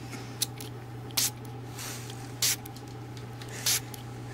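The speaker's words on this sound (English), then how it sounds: "I gotta spray the fuck out of here." Several short hissing bursts from a spray bottle misting hair in a mock salon routine, each burst brief and separated by pauses over a steady low hum, with no voices.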